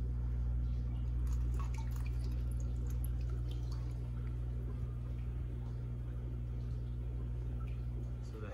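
Aquarium water poured from a container into a bucket holding discus fish, a soft close trickle and splash that runs steadily under a constant low filter hum, with faint speech in the background.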